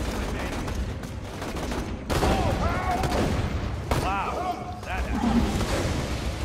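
Shotgun fire in the video game Borderlands 2, with a rapid burst of gunfire and crashing impacts loud in the mix, while people talk over the action throughout.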